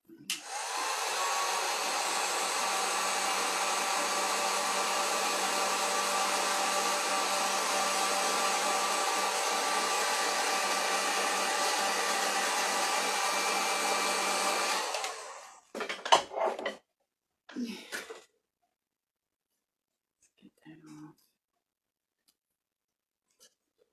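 Hair dryer or heat gun warming glue on a painted pumpkin craft, a steady whirring blow for about fifteen seconds, then switched off, followed by a few faint handling clicks and rustles.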